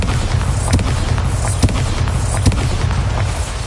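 Bombarda blasting spells cast in Hogwarts Legacy, several dull booming bursts at roughly regular intervals over a dense, loud rumbling background.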